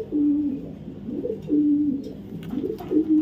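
A female racing pigeon coos close by, three rhythmic throaty coo phrases in a row, clear and alone with faint background noise.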